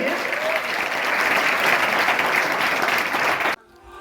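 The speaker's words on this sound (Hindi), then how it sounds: "सभी ताली बजा देंगे" A school gathering at a farewell welcome breaks into loud, sustained applause from a large crowd, a steady dense wash of clapping that cuts off abruptly near the end.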